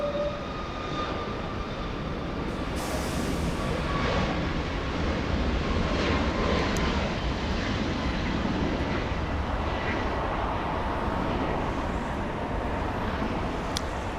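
A Southwest Boeing 737 MAX airliner at Los Angeles International Airport produces a continuous broad jet engine roar that holds steady at a distance, with faint whining tones over the rumble and no talking.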